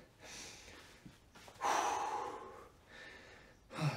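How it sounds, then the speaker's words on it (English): Heavy breathing during a dumbbell workout, a few loud, forceful exhales and sighs close to the microphone, spaced about a second apart, with no speech. "Trying to control the breathing."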